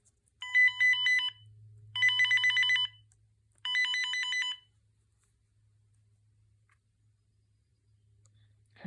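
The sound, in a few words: ringtones on a 2000s GE analog cordless phone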